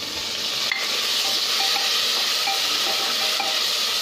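Tomatoes hit a pan of frying masala and sizzle steadily, a loud, close, continuous hiss with faint stirring clicks and no voices.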